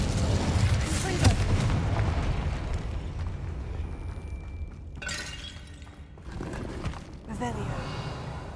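Confringo blasting spell in the Hogwarts Legacy video game: loud crashing blasts and shattering bursts in a busy, rumbling game mix, with a voice speaking over parts of it.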